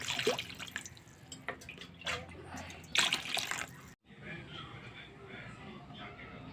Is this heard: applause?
no